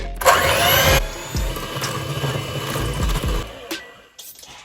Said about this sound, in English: today I'm just going to be using my hand mixer. And you just want to cream it together for about 5 minutes.